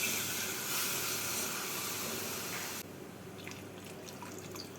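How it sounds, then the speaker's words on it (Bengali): Two cups of hot water poured into a mutton malai kofta curry in a pan: a steady hissing, splashing pour that cuts off partway, followed by faint drips and sizzling. "ঝোলের জন্য জল দিচ্ছি দুই কাপ গরম জল"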